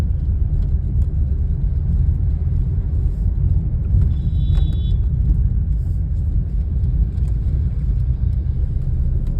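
Steady low rumble of many vehicles on a road near a market, cars passing continuously at close range with a brief higher whine partway through.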